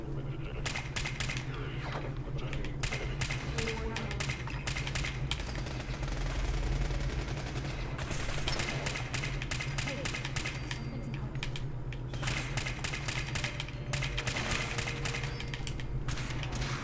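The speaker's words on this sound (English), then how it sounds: "This is the splatter cannon you get from the Nuka World DLC." Splatter cannon from the Fallout 4 Nuka World add-on firing in rapid automatic bursts, sharp clattering shots in several long volleys over a low steady hum, with talk mixed in.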